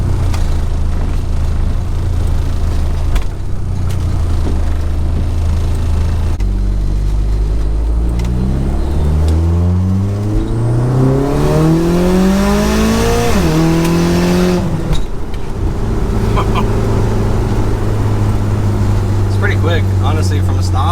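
A Mitsubishi Eclipse GSX turbo car, running hot, pulls away from a stop with a loud engine note that climbs in pitch through the revs past 5,000 RPM, shifts gear and rises again, close and continuous.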